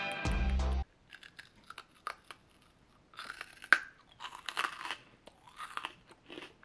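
A brief loud buzzy tone, then close crunching and chewing of hard, sour gummy-bear-flavored candy in irregular bursts, with louder clusters of crisp bites toward the end.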